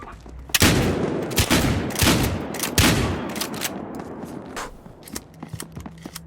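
Rapid shotgun blasts in the Battlefield Hardline video game, a series of loud, sharp booming shots fired in quick succession, with the firing thinning out toward the end.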